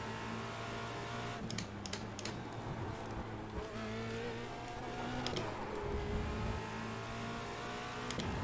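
Formula Renault race car in the iRacing sim accelerating, its engine a steady, loud harmonic drone that climbs in pitch with brief breaks like gear shifts.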